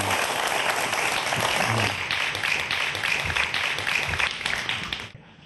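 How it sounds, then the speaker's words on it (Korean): A studio audience welcomes a lecturer on 3D printers with steady, full applause that runs for about five seconds, then cuts off abruptly. "여러분 박수로 강연 청해 듣죠?"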